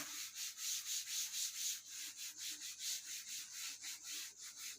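Eraser or duster rubbing writing off a board, a steady back-and-forth scrubbing in about twenty quick, even strokes, close and fairly loud with no voices.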